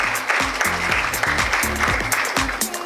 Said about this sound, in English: Yes, one more time, a huge round of applause.